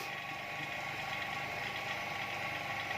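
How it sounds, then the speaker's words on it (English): A vacuum pump runs on a deep freezer refrigeration system under repair, giving a steady, even mechanical drone with a faint rapid rattle, close and continuous throughout with no speech. "I switch the vacuum pump on, which you can see the way I'm doing it"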